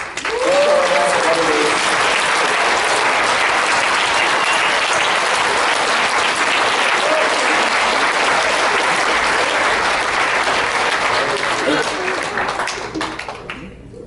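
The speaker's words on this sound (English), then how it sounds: "I just want to just give them a round of applause" Wedding reception guests give sustained applause for the couple's parents on their 40th anniversary, a thick, steady roar of many hands lasting over ten seconds before tapering off, with faint voices in the crowd.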